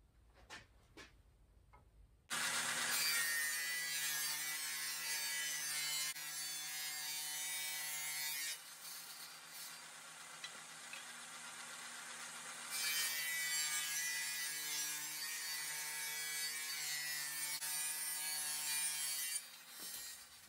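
Wood being ripped into 3/4 inch strips from a 3.5 inch offcut while building a slatted beehive rack, a steady loud power-saw cut running about 18 seconds after a brief quiet start, with a slight shift in tone midway and no talk.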